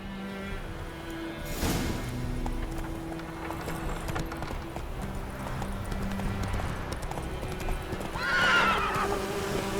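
Horse hooves clip-clop steadily through a scene in The Witcher 3, with a horse neighing loudly near the end over a low background of game music and ambience.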